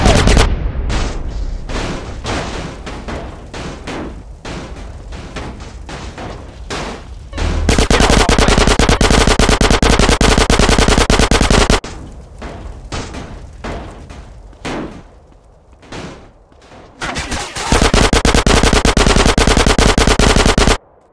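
Rapid machine-gun fire from the video game GTA San Andreas Definitive Edition, loud sustained bursts that stop and restart, with shouted voices mixed in between volleys.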